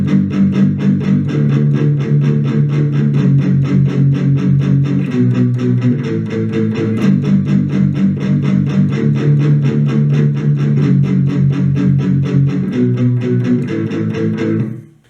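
Palm-muted electric guitar chugs through the chorus, with dense, driving chords in a steady rhythm that shift between a few positions. It plays loud and close for about fifteen seconds with no voice over it.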